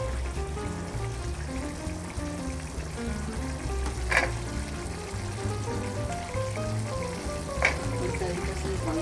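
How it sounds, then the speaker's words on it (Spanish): Diced potatoes sizzle and fry as they hit a pan of cooking meat, a steady close hiss with a couple of brief louder crackles and stirring scrapes. "Ahora le vamos a agregar las papas."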